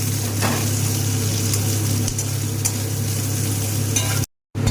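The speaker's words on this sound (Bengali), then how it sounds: "এবার এর মধ্যে দিয়ে দেবো কুচনো পেঁয়াজ। একটা মিডিয়াম সাইজের পেঁয়াজ দিয়েছি। এবার এই পেঁয়াজটাকে ভালো করে ভাজবো।" Chopped onion with chilli and cumin frying in a pan gives a steady, close sizzle with a low hum underneath, then cuts to a brief silence near the end.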